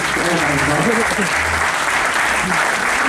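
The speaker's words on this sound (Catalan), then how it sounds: "Un fort aplaudiment per a Neus." Strong applause for Neus at a bullfighting awards gala in Santa Bàrbara, Tarragona, loud continuous clapping from the audience with a voice talking over it.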